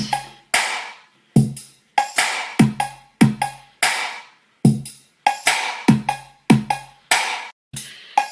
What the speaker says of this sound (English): My drum beat sounds like this.